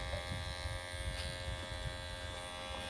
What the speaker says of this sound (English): Let me oil it now so you can you will hear the smooth sounding of this clipper.